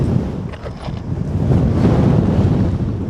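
Strong wind buffets the microphone outdoors at night beside a road, a loud, continuous low roar that swells and gusts throughout with no voices.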